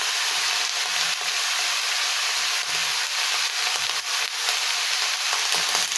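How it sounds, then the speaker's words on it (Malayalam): Steady loud sizzling and frying as curry cooks in a hot frying pan, with occasional soft scraping from a spoon stirring through it, continuous throughout with no talk. "ഇതൊന്ന് ഇളക്കി കൊടുക്കാം"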